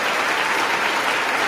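Sustained, dense applause from a large audience during a State of the Union address, with even, continuous clapping filling the hall throughout.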